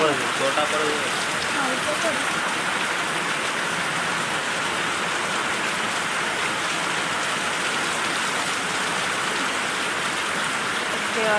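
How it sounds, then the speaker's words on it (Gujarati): Heavy rain pours down steadily on a village with its farm fields flooded, a dense, continuous hiss of drops on surfaces with no break throughout. "વરસાદ તો હજી જેમ પડે છે ચાલુ જ છે"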